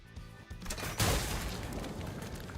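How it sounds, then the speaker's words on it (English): An explosion in the video game Limbus Company bursts out suddenly after a quieter stretch, a loud booming blast that leaves a sustained rumbling roar fading slowly, with no speech over it. "A blinding light and deafening explosion assault the crab shell."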